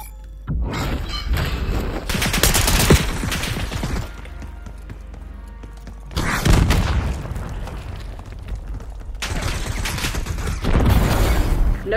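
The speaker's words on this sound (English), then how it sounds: "Gunfight." Gunfight in the video game Warzone, loud blasts of gunfire and booming impacts in three heavy bursts separated by quieter gaps, close and dominant with no talk.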